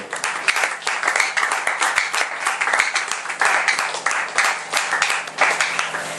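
Church congregation applauding and cheering for the glory of the Lord, dense continuous clapping filling the room at steady loudness with a few voices mixed in.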